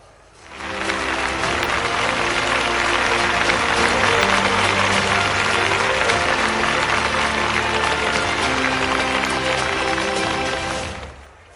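Loud, sustained applause from a large crowd at a political rally in Jhabua, Madhya Pradesh, greeting the Chief Minister's arrival on stage, holding steady for about ten seconds before fading out.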